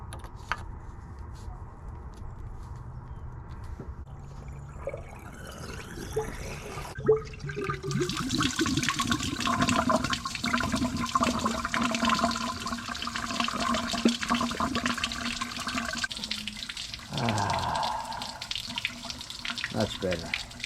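Water from a hose flushing through the engine block of a 1976 Chevy LUV, a steady gushing and splashing rush that swells louder midway and continues alongside spattering, close by.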